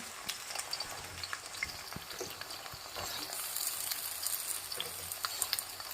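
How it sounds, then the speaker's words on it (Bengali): Pointed gourd pieces sizzle and crackle steadily in oil in a pan, a continuous close frying hiss with scattered pops and a few stirring scrapes, no voices. "মোটামুটি অল্প করে এরকমভাবে আমরা ভাজতে থাকবো। এবার এর মধ্যে আমরা অ্যাড করব আগে থেকে কেটে রাখা পটলগুলো।"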